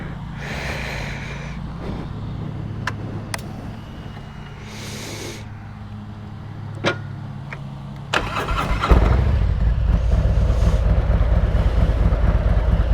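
A 2020 Harley Davidson Road motorcycle with an upgraded front end idles with scattered clicks and knocks, then the engine fires up and rumbles loudly and steadily as the ride begins.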